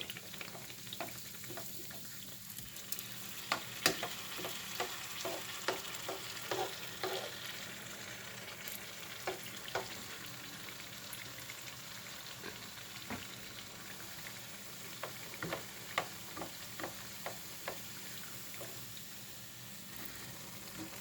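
Thin sfenj dough frying in oil, a soft, quiet bubbling sizzle broken by irregular light scraping and stirring clicks, heard without talk.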